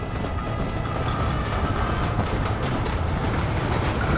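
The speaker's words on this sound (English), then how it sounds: "Right ahead of the train!" A train in the video game Red Dead Redemption rumbling along the tracks, a steady, loud, dense roar with faint rhythmic clatter running throughout.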